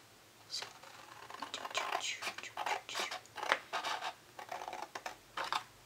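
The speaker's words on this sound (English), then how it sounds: "So I have my scissors here, and we're going to cut out all of these corner rectangles." Scissors snipping through card stock while cutting out corner rectangles for a twist-and-fold card, a close run of short crisp cuts in an irregular rhythm.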